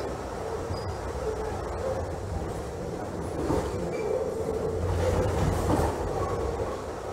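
Simulated New York City subway train, a 6 local from Pelham Bay Park to Brooklyn Bridge at PM rush in Trainz Simulator 2012, rumbling steadily along the track with a continuous low roar that swells slightly toward the end.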